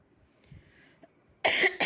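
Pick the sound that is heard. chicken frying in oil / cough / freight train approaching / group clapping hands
cough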